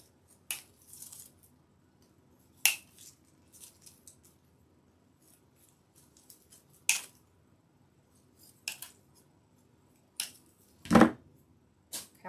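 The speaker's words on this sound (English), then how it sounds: "I'm going to cut these kind of long, just so we have enough stem to work with" Scissors snipping stems for a lemon grapevine wreath, about seven sharp separate cuts spaced a second or two apart, close and crisp in a quiet room with no talking.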